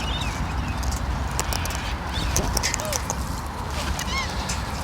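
Pet birds, including corellas, squawk and chirp in short scattered calls over a dense, noisy background with occasional clattering; no clear talk is heard.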